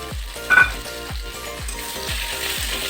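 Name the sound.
gatte (gram flour dumplings) slow frying in a kadhai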